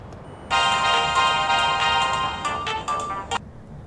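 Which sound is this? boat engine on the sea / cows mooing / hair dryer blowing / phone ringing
phone ringing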